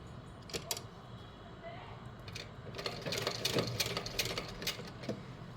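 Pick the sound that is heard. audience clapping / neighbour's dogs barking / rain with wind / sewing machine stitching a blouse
sewing machine stitching a blouse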